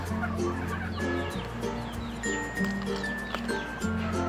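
A rooster clucks repeatedly and close by while being held by hand, its short, rhythmic calls steady throughout with faint handling noise and no talk.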